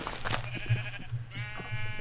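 Sheep in the Minecraft video game bleating, two or three short wavering game-sound bleats close up, separate calls over a low steady background hum.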